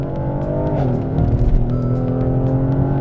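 A Mercedes-AMG GLE Coupe engine roars loudly as it accelerates hard, its pitch climbing and then dropping through a gear change before building again.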